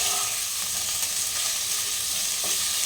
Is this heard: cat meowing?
no